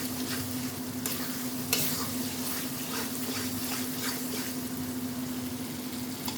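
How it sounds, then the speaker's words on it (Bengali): Spice masala being sautéed for a mutton curry: constant close frying sizzle with spoon scraping and stirring throughout, over a steady low hum from a stove or fan. "মশলা কষাচ্ছি, মশলা কষে গেলে খাসি মাংস দেওয়া হবে"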